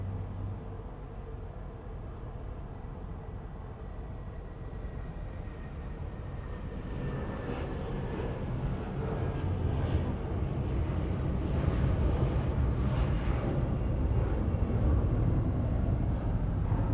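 A Boeing 757 airliner takes off at Los Angeles International Airport, its jet roar building steadily into a loud, broad rumble that keeps swelling toward the end.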